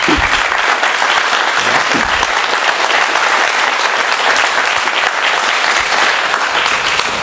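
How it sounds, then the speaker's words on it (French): A conference audience applauds a research team, dense continuous clapping filling the room, loud and close, sustained evenly from start to finish with no speech over it. "Et je vous demande de les applaudir."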